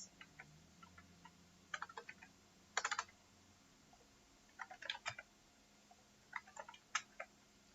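Quiet computer keyboard typing comes in short, clustered bursts of crisp key clicks separated by pauses, close and alone in a near-silent room.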